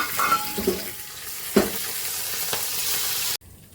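Mustard seeds, curry leaves, cumin and chana and urad dal sizzle in hot oil for a tempering, a steady close frying hiss with a few stirring taps, ending abruptly.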